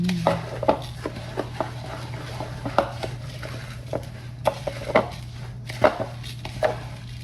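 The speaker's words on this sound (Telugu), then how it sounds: "బొరుగులు ఇప్పుడు మంచిగా మిక్స్ చేసుకుందాం" Puffed rice (borugulu) being tossed and mixed by hand with fried lentils for a street-style snack, giving a steady series of soft crisp rustles and light taps over a low constant hum, no talking.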